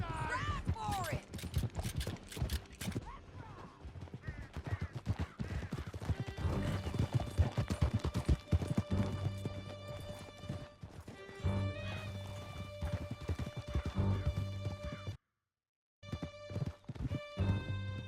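Horses gallop during a ride in Red Dead Redemption 2, with close, rapid hoofbeats and a whinny, driving steadily under scattered game sounds and voices before a brief silence near the end.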